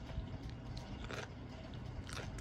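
Soft, close chewing and crunching of a snack, faint and intermittent bites in a quiet room.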